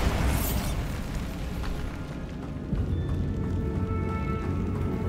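A Bombarda explosion spell going off in Hogwarts Legacy, a loud, sustained rumbling blast with a sharp burst at the start, dense low-end roar and a lingering crackling tail throughout.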